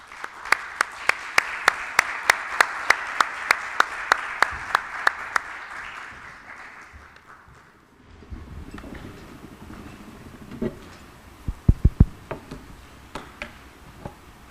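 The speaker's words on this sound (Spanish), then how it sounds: "Los recibimos con un aplauso" An audience at a panel colloquium on 40 years of Argentine democracy applauds. Sharp, evenly spaced claps come first, and a looser, scattered round of clapping swells later. The applause is moderately loud in a room with little talk.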